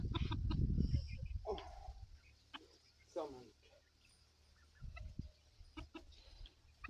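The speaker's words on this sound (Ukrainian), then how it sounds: "Дуже кури хороші." Chickens and roosters cluck and call close by on a farm, the fowl noises scattered through the clip while someone talks over them.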